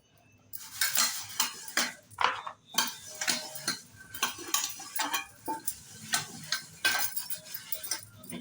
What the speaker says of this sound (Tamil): தேய்ச்சிட்டு காட்டுறேன் உங்களுக்கு.